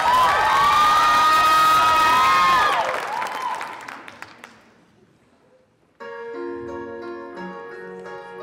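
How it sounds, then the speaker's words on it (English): An audience at a high school singing competition applauds and cheers loudly for a singer, a dense wash of clapping and shouts that fades out over several seconds before piano music begins. "Let's give Ava one big round of applause"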